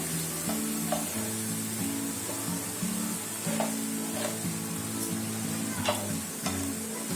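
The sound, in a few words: ginger added to hot oil sizzling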